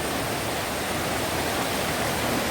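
Madatharuvi waterfall near Ranni, viewed from just above the falls, a dense steady roar of rushing water that fills the scene without pause.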